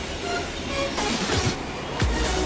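Metro train at an underground station, a steady rumbling roar of rolling carriages with brief screeching wheel squeals, loud and close, with no talk.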